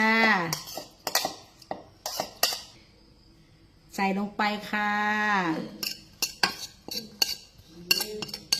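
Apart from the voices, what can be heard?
utensils mixing food in a bowl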